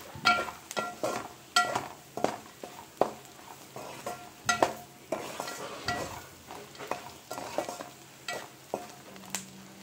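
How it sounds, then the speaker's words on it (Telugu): Dried prawns frying in a pan with salt and tamarind, a continuous close sizzle under frequent rhythmic scrapes and clinks of a spoon against the pan. "ఇవి ఈ ఎండు రొయ్యలకి బాగా పట్టేదాకా ఒక నిమిషం ఏపి పెట్టుకుందాం."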